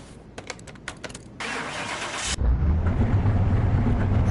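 In the video game Car Mechanic Simulator 2021, a few clicks, then a starter whirs briefly before a car engine catches and settles into a low, steady idle rumble.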